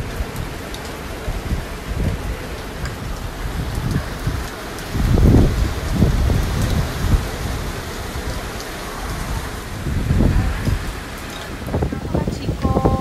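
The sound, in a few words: heavy rain downpour during Hurricane Isaias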